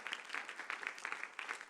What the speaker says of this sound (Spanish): ¿Cuánto le damos un fuerte aplauso al Señor?